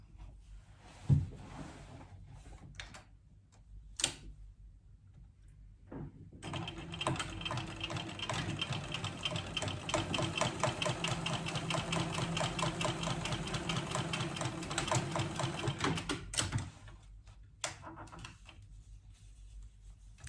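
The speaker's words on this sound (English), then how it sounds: "we're going to top stitch each card slot" A sewing machine top-stitches card slots on a crossbody bag, running in a steady rapid mechanical chatter for about ten seconds, bracketed by a few clicks and handling noises before and after.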